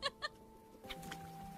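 Farm chickens clucking in the farming game Grimshire, two short sharp clucks up front followed by a softer, steadier run of fowl calls over a faint background tone.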